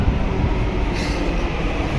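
A Delhi Metro train rumbles past close by at Noida City station, a dense low roar with a brief higher whine in the middle, loud and steady throughout.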